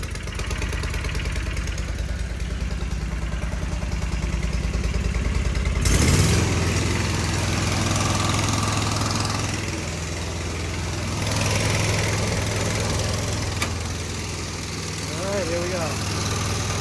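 A Walker mower's engine cranks and catches after a GHS blower replacement, then settles into a steady, fairly loud idle with a low rumble that holds for several seconds; voices talk over it.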